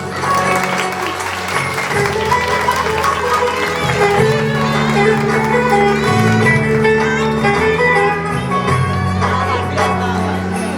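Steady clapping from many hands at a Turkish henna night as a mother hands her rose to her daughter, sustained and fairly loud under prominent music throughout.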